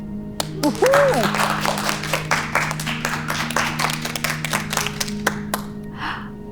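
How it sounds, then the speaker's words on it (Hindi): Classroom applause for two children: scattered hand claps from a small group, fairly close, come as uneven bursts across several seconds and then fade out. "इन दोनों के लिए तालियां हो जाए"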